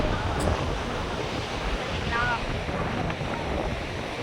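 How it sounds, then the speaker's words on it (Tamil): Strong wind buffets the microphone at a beach, a dense, steady roar of gusts mixed with surf, loud and unbroken throughout with no clear speech. "காத்து வந்து பயங்கரமாக வீசுகிறது"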